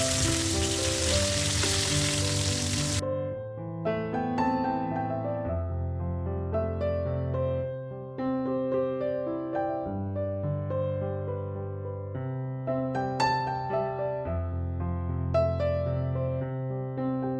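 Hilsa fish fry in a kadai with a loud, hissing sizzle for about three seconds, then melodic music takes over and the frying is no longer heard.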